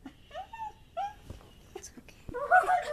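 A dog whimpers and yips in a few high, wavering cries close by, growing into a louder whine at the end, with a brief bit of speech.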